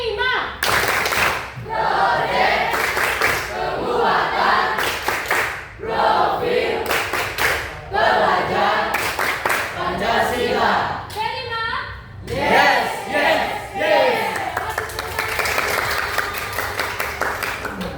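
A school class performs a rhythmic clapping chant in an Indonesian classroom, sharp unison claps in patterned bursts mixed with children's and a teacher's chanting voices, loud and close throughout.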